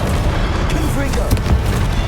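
A Confringo blasting spell explodes in Hogwarts Legacy, loud booming detonations that rumble continuously over a shouted spell-casting voice.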